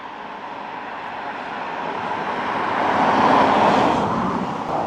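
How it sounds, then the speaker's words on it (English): A single car drives past on a rural road with soft grass verges, its rushing tire and engine noise rising gradually to a near peak and then easing off, no speech. "Another car, good God"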